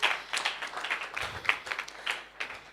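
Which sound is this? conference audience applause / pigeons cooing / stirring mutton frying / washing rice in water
conference audience applause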